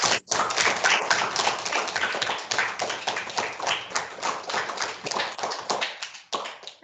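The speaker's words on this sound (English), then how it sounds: "And we'll give her a round of applause." Sustained applause from a school assembly audience: many hands clapping densely and steadily for several seconds, with a brief lull near the start and the clapping thinning out at the end.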